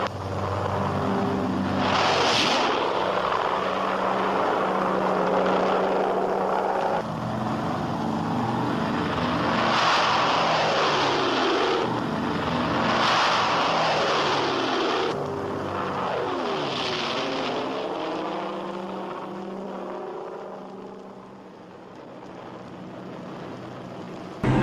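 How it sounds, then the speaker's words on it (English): C-47 transport aircraft fly in 1944 archival footage of the D-Day invasion, with a continuous loud propeller drone that swells and fades in waves as planes pass overhead. "Minutes after the Pathfinders take off, the first serials of C-47s follow on the invasion path."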